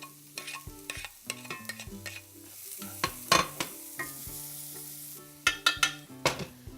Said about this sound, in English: let's get our onions and garlic into the pan